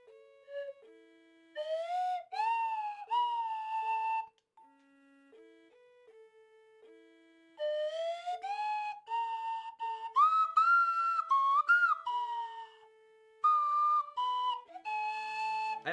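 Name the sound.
tune played on a slide whistle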